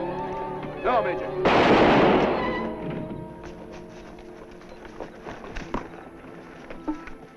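A single loud gunshot bursts out in a Western drama, followed by a fading rumble and then scattered quieter sounds and hoof-like clops, with voices speaking before and after.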